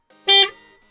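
A single short, loud car horn blast at full volume, close and alone, followed by a brief faint tail.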